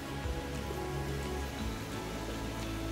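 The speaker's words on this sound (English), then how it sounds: "It's raining again. And it's not the cloud this time." Rainwater drips and patters steadily from trees along the Glenwood Catwalk, a dense, even spatter close by with no voices.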